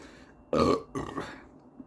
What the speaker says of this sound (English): when I'm burping, I'm getting like a mouthful of custard